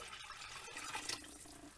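Homemade veggie stock pouring into a soup pot, a steady faint liquid gurgle and splash, close by and continuous without speech.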